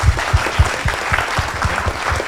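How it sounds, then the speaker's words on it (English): Applause for three panelists closing a round-table on agro-tech, health-tech and edu-tech in Brazil, close and loud, with heavy rhythmic hand claps near the microphone over a dense bed of crowd clapping throughout. "can we give a round of applause to our three panelists?"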